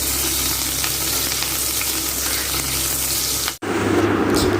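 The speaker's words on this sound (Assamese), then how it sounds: "এই দুটা জলকীয়া তেলতে দি দিছোঁ।" Green chilies and sliced onion frying in hot oil for a bottle gourd fish curry, a loud continuous crackling sizzle up close, briefly cut off then resuming.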